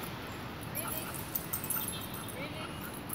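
Two dogs that know each other playing together during a retrieving session, giving small yips and whimpers amid steady outdoor background noise, with people talking nearby.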